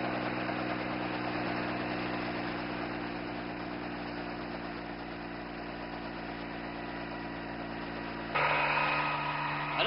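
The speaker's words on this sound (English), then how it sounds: "He started the motor by accident." A boat's motor runs steadily at idle with a continuous low, vibrating hum, growing a little louder and rougher near the end.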